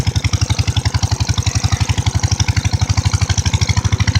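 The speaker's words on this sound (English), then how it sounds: "It sounds better than all my other motorbikes rolled into one." A Whizzer motorbike engine chugs close by in fast, even pulses, a loud steady idle-like putter throughout, on a 36-degree day.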